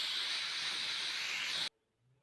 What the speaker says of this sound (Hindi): कुकर को खोलते हैं एहतियात से, क्योंकि इसके अंदर बहुत ज़्यादा स्टीम होती है